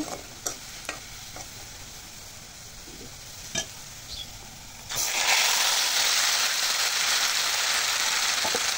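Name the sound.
chicken added to browned onions, frying in pan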